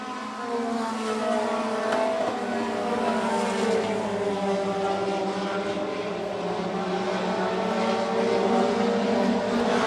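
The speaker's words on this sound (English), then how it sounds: "So those Parker Brother cars are strong today" Race cars at the Boss Hogg 150 racing on a track, a continuous loud roar of several engines that stays steady throughout, without any talk.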